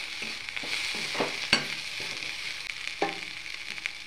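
Dried shrimp frying with garam masala and cumin powder in a pan, stirred with a steady broadband sizzle and scattered spatula scrapes, one sharp clack near the middle, no voices.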